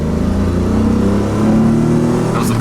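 A DeLorean, a DMC car fresh from a steering column bushing repair, accelerates with a steady, loud mid-pitched engine drone that climbs gently in pitch, heard close from inside the car with no talking.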